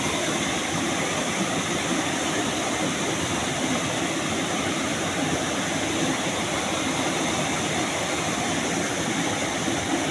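Water pours steadily down a drop beside a large boulder with cement work, a dense, unbroken rushing roar that stays loud and constant throughout, with no voices.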